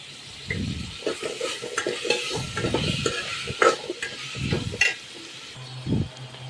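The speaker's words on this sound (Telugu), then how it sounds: "టమోటాలు మెత్తబడేంత వరకు అయితే వేపుకోవాలి" Tomatoes with green chillies, curry leaves and coriander fry in hot oil, with a steady sizzle broken by repeated bursts of scraping as a spoon stirs the pan, close and fairly loud.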